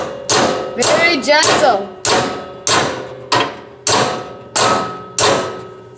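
A hammer gently taps the snowblower mount on a John Deere 100 Series 125 Automatic lawn tractor, giving about eight evenly spaced, close metallic knocks, with a brief spoken remark among them.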